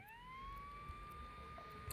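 A single rising police siren tone from the video game GTA 3 swells and then holds steady, fairly quiet and heard on its own.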